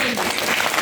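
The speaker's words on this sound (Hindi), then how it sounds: "ताली बजाओ ताली।" A short burst of dense clapping from a small crowd, loud and close, with voices mixed in.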